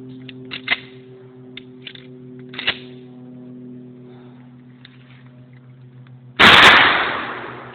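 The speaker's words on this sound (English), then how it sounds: "The first thing we're going to fire is just two 3/4 inch nuts stuffed into a 12 gauge round" A 12 gauge shotgun fires a custom shell stuffed with two 3/4 inch nuts, one loud sharp blast near the end that rings off slowly, preceded by a few faint clicks and handling noises over a steady low hum.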